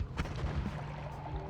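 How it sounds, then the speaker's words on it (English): Missiles summoned in a video game, landing as a few dull booming blasts, fairly faint and close together over a low background hum. "that's the one that summons missiles. The fun missile one."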